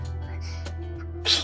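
A single short, sharp sneeze near the end, heard over a steady low electrical hum.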